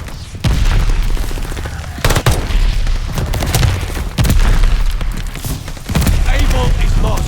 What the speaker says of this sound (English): Teammate called an airstrike. Heads up. Friendly bomb fire.